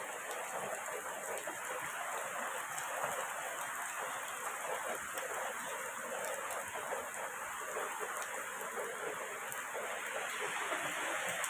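Heavy monsoon rain pours down in a steady, dense roar with a constant hiss, loud and unbroken throughout, with no voices over it.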